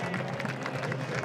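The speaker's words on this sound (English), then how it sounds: "Cook getting a well-deserved round of applause" Stadium crowd applauding a rugby player at a Miami Sharks versus New England Free Jacks match, a brief, steady patter of distant clapping.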